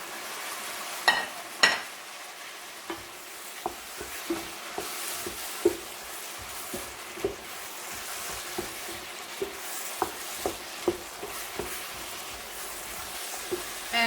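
Zucchini frying and being stirred into bolognese sauce in a pan, a constant soft sizzle with regular light scraping and tapping strokes of a spoon repeating every half second or so, close but fairly quiet.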